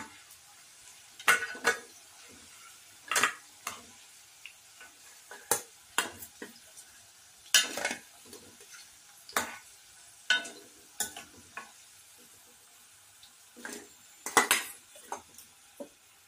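Jackfruit pieces fry in a pan under a faint sizzle, punctuated by repeated sharp clinks and scrapes of a utensil against the pan at an irregular rhythm, close and fairly loud.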